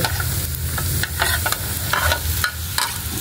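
Onion and garlic sizzle steadily in a frying pan while a utensil stirs them, scraping and clattering in short repeated strokes over the constant close hiss, with no talking.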